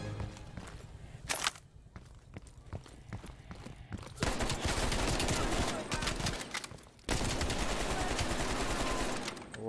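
AK-47 bursts in the Vietnam setting of Call of Duty Black Ops Cold War crackle sparsely at first, then give way to loud, sustained automatic fire in two long stretches split by a brief pause.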